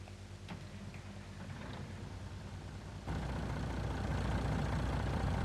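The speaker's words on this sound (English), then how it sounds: "Listen to that engine fire up properly." The Roadrunner vehicle's engine in Farming Simulator 19 cranks with a few ticks and then catches, settling into a louder steady idle rumble close by, with no voices.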